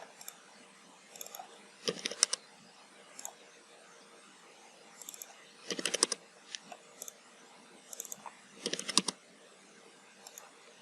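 Keys tapped on a computer keyboard while entering a fillet radius of 20 in CAD software: short clustered bursts of clicks around two, six and nine seconds, close and fairly quiet, with scattered single taps between.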